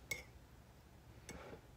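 A spoon clinks against a cup of mulberry tea while stirring in honey sweetener, two light, faint taps about a second apart in a quiet room.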